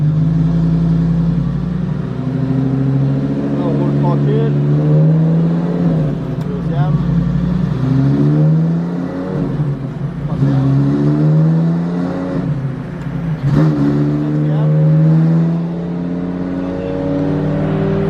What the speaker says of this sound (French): Donc là on va se mettre en quatrième à 4000 tours.